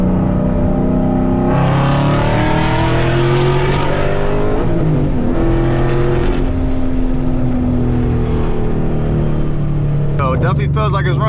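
A supercharged Ford Mustang GT engine revs up in third gear and climbs in pitch with a whining supercharger tone, loud and close, easing off before rising again near the end.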